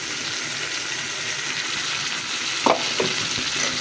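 Cumin seeds frying in hot oil, a loud, even sizzle close by, with a couple of sharp utensil clinks near the end and no talking.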